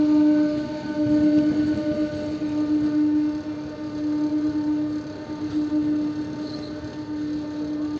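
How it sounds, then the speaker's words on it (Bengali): Train starting to roll slowly into Varanasi Junction after a halt at the outer signal, a steady low rumble with a sustained horn-like tone running throughout at moderate volume. "ট্রেন চলা শুরু করলো, এবার ঢুকছি বারাণসী জংশন স্টেশনে।"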